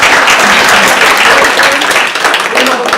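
Audience applause at a California Coastal Commission public meeting, a steady broadband wash of many hands clapping together for the full three seconds, fairly loud and dense, with murmured voices faintly mixed in.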